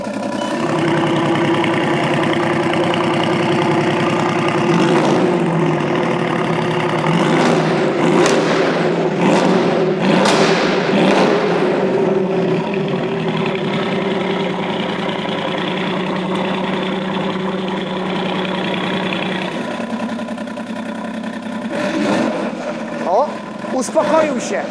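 An idling car engine with an open exhaust rumbles loud and close in a garage, with a deep steady burble that rises through several short revs and later settles back to idle, while people talk over it.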